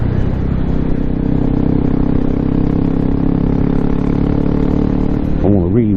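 Honda CRF250L single-cylinder motorcycle engine running steadily with a throbbing low rumble close to the microphone, holding a constant note for several seconds before a brief shift in pitch near the end.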